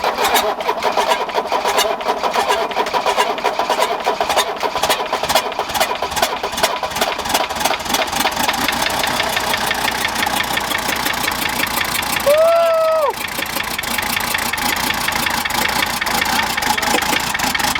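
Ford 6.7 Powerstroke diesel truck engine running loudly and steadily up close, a dense rough drone with a brief shift in pitch partway through, and no talking.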